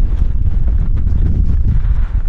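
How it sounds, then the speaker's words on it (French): Strong gusting wind buffets the microphone at an outdoor two-wheeler show in Lyon, a loud low rumble with uneven bursts throughout. "On a beaucoup de vent là."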